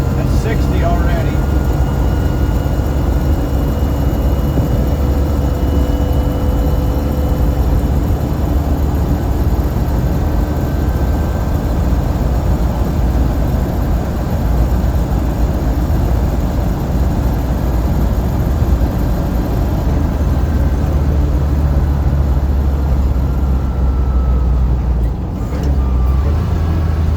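A 1966 Land Rover 109 with a six-cylinder engine drives at speed, giving a steady, loud engine drone and road roar that continues without a break throughout.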